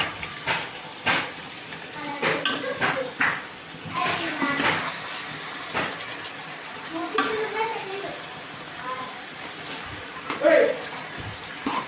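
Country chicken pieces being stirred with onion paste in a pot, with close scraping and wet stirring strokes repeating irregularly, soft sizzling underneath and a voice talking over parts of it.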